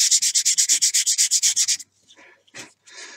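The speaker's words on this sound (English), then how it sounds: "And then we're going to sand the tube here." Sandpaper rubs the body tube of an Apogee Aspire model rocket close up in about fourteen quick, evenly spaced strokes. A few softer, scattered scrapes follow after a short pause, with no talking.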